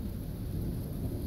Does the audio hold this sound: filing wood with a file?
no